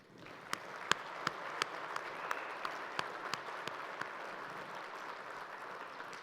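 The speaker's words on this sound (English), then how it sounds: "Let's thank these board members for all their fine work with a round of applause" Applause from attendees at an annual cooperative meeting, honoring board members: a sparse scattering of distinct, loud individual claps over a steady background of softer clapping that fades out toward the end.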